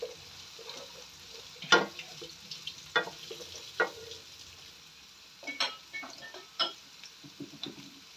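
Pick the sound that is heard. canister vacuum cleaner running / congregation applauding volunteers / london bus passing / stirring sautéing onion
stirring sautéing onion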